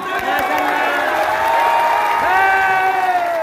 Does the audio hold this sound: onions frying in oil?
no